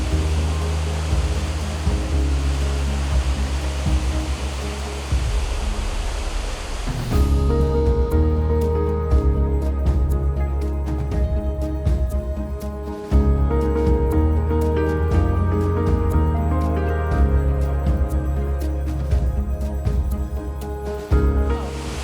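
A waterfall in Guatemala roars as a steady, dense rush of falling water for about seven seconds, loud and continuous, before music takes over and the water sinks beneath it.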